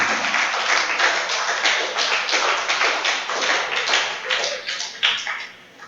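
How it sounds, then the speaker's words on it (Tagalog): A church congregation claps together for the Lord during a worship sermon: dense, sustained applause of many hands fills the whole stretch, steady and close, swelling and tapering slightly toward the end, with no voices over it. "Palakpakan po natin ang Panginoon."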